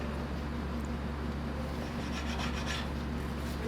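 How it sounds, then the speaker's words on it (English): Hardened wax filler, a harder wax type melted into an antique piece of furniture, is scraped off with a rough, rasping, close-up scraping sound that runs steadily for a few seconds without speech. "just melt it in there and scrape it off"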